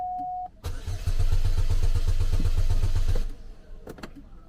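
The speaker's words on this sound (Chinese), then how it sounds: "听着启动的声音感觉像是油泵" A Xiaomi car's engine cranks and starts with a suspected fuel pump noise, a loud rough steady running roar for about two seconds before it cuts off, heard close with no talk.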